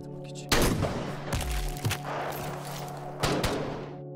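Bursts of gunfire in a film shootout between rescuers and terrorists in a mountain landscape, sharp loud volleys at the start and again near the end, with rattling shots and thumps between them.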